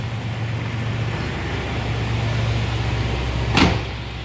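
A 1992 Cadillac Fleetwood Brougham engine idles in a smooth, steady low hum, with a single brief clunk near the end.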